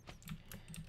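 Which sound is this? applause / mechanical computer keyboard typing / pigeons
mechanical computer keyboard typing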